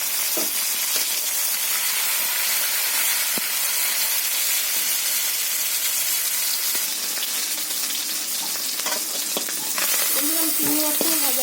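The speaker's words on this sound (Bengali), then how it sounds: "আমি চিংড়ি মাছটা ভেজে নেব।" Shrimp fry in hot oil in a wok, giving a loud, dense, continuous sizzle and hiss with occasional stirring knocks, and a brief voice is heard near the end.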